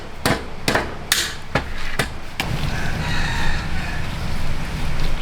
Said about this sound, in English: Tools like hammers assist in compressing the interlacing of the ropes as the mat is being woven.